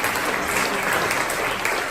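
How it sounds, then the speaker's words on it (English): An audience at a stand-up card magic show claps for a volunteer, dense continuous applause filling the room, loud and steady throughout with no voices over it. "Give him a big round of applause for at least trying."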